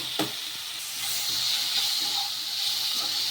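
Maggi noodles stir-fried in a pan on high flame, a loud continuous sizzle and hiss with steam, a sharp clatter near the start from the noodles or utensil hitting the pan.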